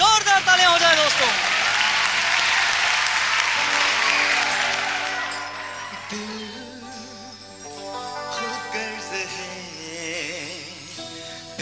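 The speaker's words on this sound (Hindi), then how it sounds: "जोरदार तालियां हो जाए दोस्तों" A crowd bursts into loud applause at a singing show, with a presenter talking over the clapping and music taking over as it fades.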